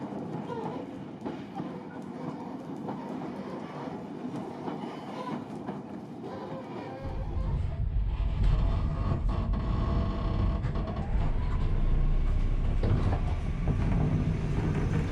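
A 1938-era train runs on the Isle of Wight line, heard from on board as a loud, steady rumble that grows heavier partway through, with rhythmic wheel clatter and no clear talk.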